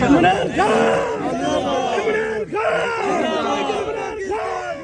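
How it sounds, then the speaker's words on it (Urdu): A large crowd of Pakistan Tehreek-e-Insaf workers chants slogans in loud, rhythmic unison, repeated surging calls filling the air close by and continuing without pause. "یہاں پر نعرے بازی پاکستان تحریک انصاف کے کارکنان کی جانب سے کی جا رہی ہے۔"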